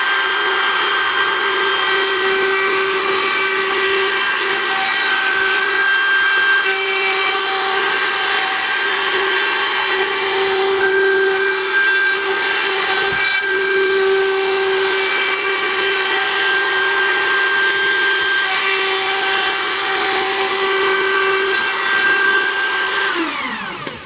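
Wood router on a shopmade trammel cutting a large circle in wood, a loud continuous high-pitched whine with steady tonal hum and grinding cut noise for the whole stretch, winding down slightly at the end.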